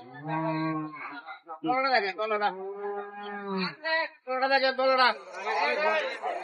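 A dairy cow at a Bangladeshi livestock market lows in a deep, drawn-out moo near the start, followed by someone talking close by amid market chatter.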